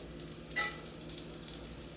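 Butter sizzles in a skillet before French toast goes in, a soft steady crackle and hiss at close range with a brief metallic clink near the start, with no talk over it.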